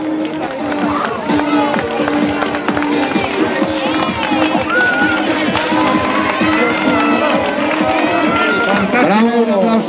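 Spectators clap and cheer steadily for runners crossing the finish of a 2012 rural cross-country race in Valdemierque, a dense outdoor patter running the whole time beneath someone talking over a loudspeaker.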